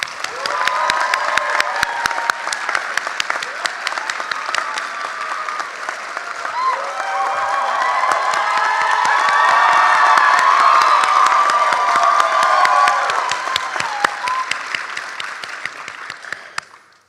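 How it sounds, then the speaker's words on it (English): Large commencement audience giving a long, loud round of applause, dense sustained clapping mixed with cheers and whoops that swells midway before tapering off. "Please give them a round of applause again."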